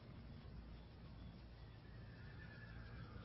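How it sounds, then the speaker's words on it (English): A dun stallion neighs with hooves clip-clopping in an old-time radio western sound effect, faint and distant beneath a hissy, low-fidelity background. "I think that's my dun stallion."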